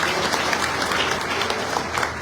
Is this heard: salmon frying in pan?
no